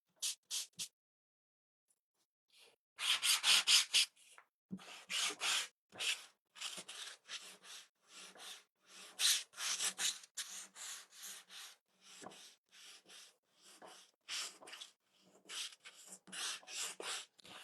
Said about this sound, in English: Let's sand some of the background though.